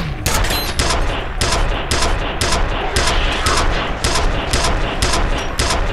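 Gunfire in F.E.A.R., loud rapid shots in quick repeated bursts with near-constant reports through the whole stretch.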